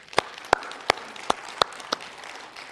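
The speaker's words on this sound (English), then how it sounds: "Can you guys give yourselves a round of applause for that?" Sparse applause from a church congregation at a Sunday service: a handful of separate, fairly close claps at uneven intervals, thin and hesitant rather than a full ovation.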